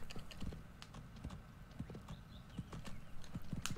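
Horse hooves clip-clop in the Go Vacation video game, a quiet, fairly quick run of crisp, evenly spaced hoof clicks over a low rumbling background.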